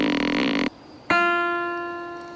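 A bowstring twangs as an empty bow is shot: a single bright, ringing pluck that fades slowly, coming after a burst of rushing noise and a short pause.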